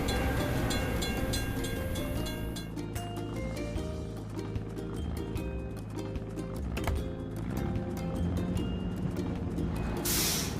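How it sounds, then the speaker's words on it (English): A cartoon train clatters past a closed crossing gate, a continuous rhythmic rattle of wheels under bright musical tones and chimes, steady and fairly loud throughout. "We have to wait for the train to pass."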